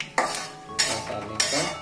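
Metal spoon scraping and knocking inside a cooking pot while masala for rajma is mixed, three distinct bursts of clatter about half a second apart, close and fairly loud with no talk.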